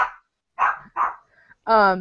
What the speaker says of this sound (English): my dog decided to bark